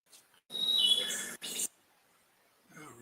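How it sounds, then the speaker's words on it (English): Bird chirps ring out in a loud, dense burst for about a second, briefly pause, then return before fading; a few softer calls come near the end. "Birds are loud."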